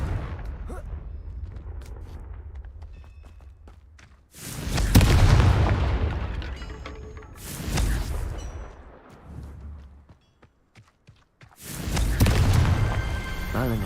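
Confringo blasting curses in the Hogwarts Legacy video game go off as three loud, booming explosions, each with a bright crackling burst, separated by quieter rumbling passages and brief near-silence.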